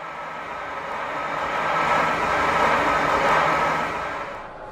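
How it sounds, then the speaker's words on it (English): Tram running on rails in the Metro Simulator game, a steady broadband rumble and hum that swells toward the middle and eases off at the end, heard alone without talk. "On this section, the tram reaches 70 km per hour and is signalled down to 50 on"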